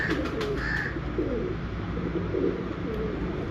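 A breeder pigeon coos in low, soft repeated phrases near at hand, over a steady low background hum, with no talking.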